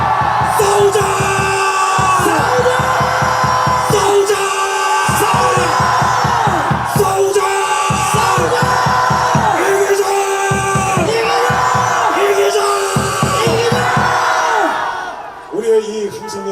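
A large political rally crowd in Dongdaegu, South Korea, shouts loud, rhythmic chants in repeated bursts. Massed voices are near and continuous, dropping away briefly at the end.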